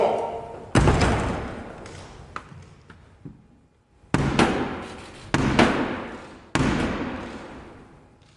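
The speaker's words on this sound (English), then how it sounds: "will have to knock on the door of the House of Commons" The door of the House of Commons is struck and slammed in a ceremonial setting, giving several loud, echoing booming thuds at irregular intervals that ring out in a large hall.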